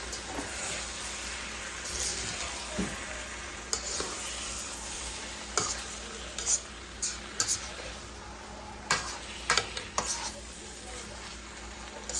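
Cabbage, potatoes, onions and peppers frying in a pan on raised heat, a constant soft sizzle broken by intermittent scraping and clacking of a utensil as the vegetables are stirred.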